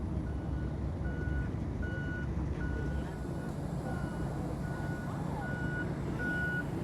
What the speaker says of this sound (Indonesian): Ini kendaraan pembersih salju.